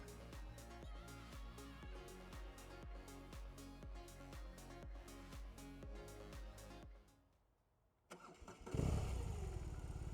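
A BMW R18 First Edition motorcycle's boxer engine cranks with a loud rhythmic starter churn for several seconds, falls quiet briefly, then catches and idles rough and close.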